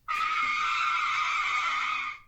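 A soundboard tire skid effect rings out as a loud, sustained screech of rubber lasting about two seconds, starting abruptly and then cutting off with a short fade, with no voices over it.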